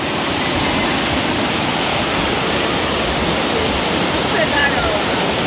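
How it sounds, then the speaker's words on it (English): River water rushing loudly and steadily throughout, a dense, continuous roar with no pauses and nothing else standing out. "The river come down."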